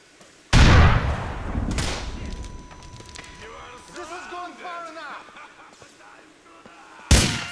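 A grenade blast in Grand Theft Auto 4: a sudden loud booming explosion with a long rumbling decay, followed by game effects and someone talking, then a second sharp blast at the end.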